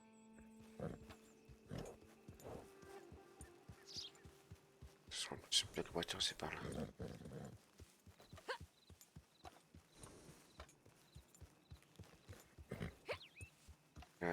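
Horse hooves in the Red Dead Redemption 2 Online video game, a regular clip-clop beat running through most of the stretch, moderately close, with French speech and occasional game sounds over it.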